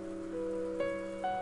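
Rain falling steadily on a rose garden in the Umineko game, a soft continuous patter under sustained musical tones, with a brief chime accent partway through.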